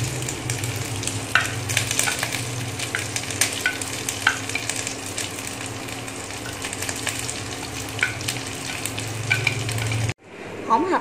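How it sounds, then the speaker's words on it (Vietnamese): Shiitake mushrooms being stir-fried in a pot for a vegetarian noodle soup: loud, continuous sizzling with frequent scraping stir strokes, cut off abruptly near the end. "Sau khi mọi thứ đã xào vàng như thế này thì mình sẽ bỏ nấm đông cô vào nha mọi người."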